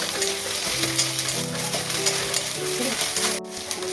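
Taro leaf mixture with green chilies sizzling in hot oil in a pan, a steady dense crackle running throughout with a faint tonal hum beneath and a brief dip near the end.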